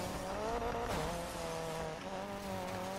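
A car drifting in the Need for Speed Payback racing game, a sustained tire squeal over a revving engine, loud and continuous.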